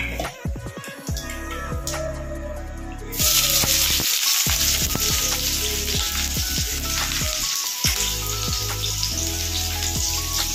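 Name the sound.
onions frying in oil in a wok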